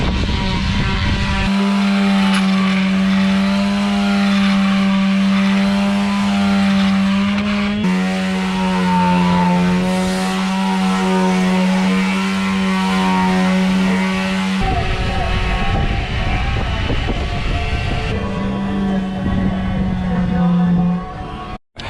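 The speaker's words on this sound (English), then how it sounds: "So I'm gonna take a break from sanding right now" Power sander working over the wooden hull of a boat, a steady buzzing drone with a clear pitch that shifts twice, running nonstop for about twenty seconds at close range.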